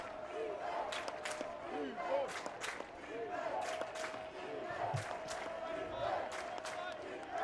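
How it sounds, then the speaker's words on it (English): A packed stadium crowd at a Chapman vs. Hardin-Simmons college football game roars and yells continuously, with individual voices rising out of the mass of cheering. "And listen to that crowd."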